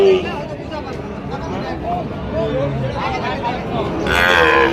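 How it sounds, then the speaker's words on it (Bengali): Sahiwal bull calves low and moo at a busy Raniganj cattle market, the calls rising over a steady murmur of nearby voices and crowd chatter. "এক জোড়া ষাঁড় বাছুর নিয়ে দাঁড়িয়ে আছে"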